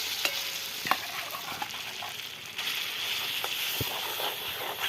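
Ground banana flower and lentil paste is stir-fried in mustard oil and ghee in a wok: soft continuous sizzling and scraping, broken by a few sharp spatula knocks against the metal, with no one talking.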